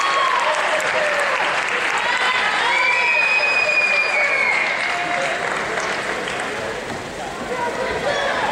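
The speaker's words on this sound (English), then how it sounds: "One more huge round of applause for number 13, Janelle Sutherland," Sustained applause from a crowd at a women's college basketball game, Saint Martin's versus Northwest Nazarene, honouring a player, with a steady roar of clapping and cheering lasting the whole stretch.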